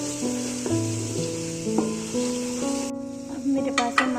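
Ground white cumin and spices for an egg-and-chickpea masala sizzle steadily in a hot pan and are stirred through, the hiss dropping away near the end while a voice and musical tones run along underneath.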